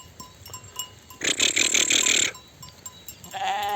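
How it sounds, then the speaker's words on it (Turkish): Month-old lambs and their ewes let out onto pasture bleat, one loud burst of overlapping bleats in the middle and another starting near the end, over quieter background sounds. "Sayada bıraktığımız bir aylık kuzuları sonradan olanları hepsini saldık."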